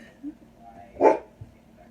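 A pet dog gives a single short bark indoors, close and fairly loud, with soft yips and faint room noise around it.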